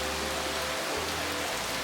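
Steady rain falls at the sea, a soft, even hiss of drops with a low rumble underneath that shifts partway through, with no voices.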